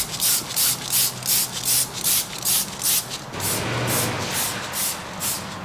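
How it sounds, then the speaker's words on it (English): Rim cleaner sprays onto car wheels at a coin-op car wash in short, evenly spaced hissing bursts, close and loud, then one longer continuous spray followed by a few more quick pumps. "I like to bring some rim cleaner just to spray it on there to loosen up some brake dust before we start power washing"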